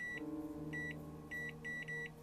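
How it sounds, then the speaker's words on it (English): A video game gives off short, clear beeps in quick pairs and threes over a low, steady hum. "What's all this beeping you young kids are doing?"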